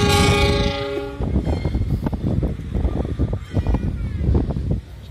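A locomotive horn sounds loudly at first, then the engine rumbles and rail cars clank and squeal as it shunts slowly backwards at an Indonesian station, close by.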